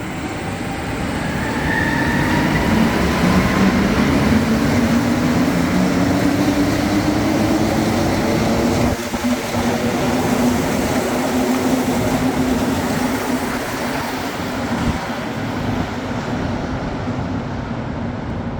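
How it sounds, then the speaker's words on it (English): A Montreal metro train pulls out of the station bound for Henri-Beaugrand, giving a loud, steady rumble of wheels and motors with a rising whine and faint squeals. It continues close by for the full length, with no talking. "this train will now be departing towards Henri Beaugrand"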